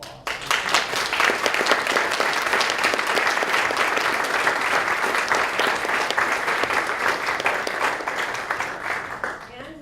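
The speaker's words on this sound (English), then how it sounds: "if we give them another round of applause" An audience at a school board of education meeting breaks into sustained, dense applause lasting nearly ten seconds, steady and full before tapering slightly at the end.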